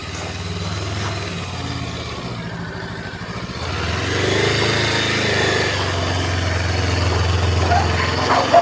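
A 2020 Honda Rebel 500 motorcycle engine runs with a steady low rumble that grows slightly louder midway, mixed with wind and road noise, fairly close.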